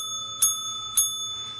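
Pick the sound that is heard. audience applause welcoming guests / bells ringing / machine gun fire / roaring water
bells ringing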